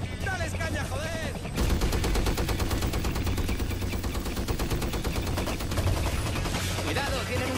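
Sustained machine gun fire in the video game Far Cry 5, a loud continuous rapid rattle of shots layered with more gunfire, dense and unbroken for several seconds.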